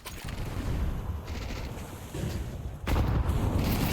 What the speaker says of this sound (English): The AK coming out huge for Dirty Dan